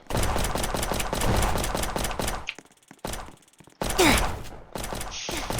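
Rapid pistol gunfire in the Roblox game Prison Life crackles in dense bursts for about two seconds, then trails into scattered quieter shots and clicks, with another loud burst of game noise near the end.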